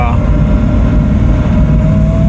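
Iso Grifo GT car engine pulling in a long first gear, a loud, steady low rumble that holds throughout with a faint rising whine on top.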